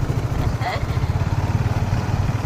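A scooter engine runs close by with a steady low putter from its rhythmic pulses, while a brief murmur of voices and other background noise sit under it.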